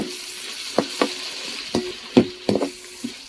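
Tomatoes being stirred into golden fried onions in a pan for fish curry, with several distinct scraping, clattering strokes of a spoon over a faint steady sizzle, no talking.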